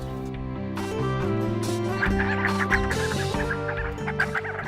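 Soft contact calls from a flock of sandgrouse preening in early morning sun in Israel, a busy overlapping chatter of gentle clucking notes close by, steady and moderately quiet throughout.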